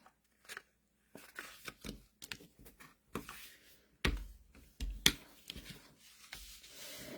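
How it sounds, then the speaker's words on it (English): White cardstock for a card base is handled close by and folded in half. The sound is a quiet run of soft paper rustles, creases and taps, some separated by brief pauses and others clustered together. "So we're just taking our white cardstock, our card base, and folding that in half."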